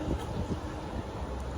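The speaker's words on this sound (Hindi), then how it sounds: "अच्छी हवा चल रही है।" Wind blows outdoors ahead of expected rain on a road trip in India, a steady low rumbling buffet with gusty swells, close and fairly loud, with no talk over it.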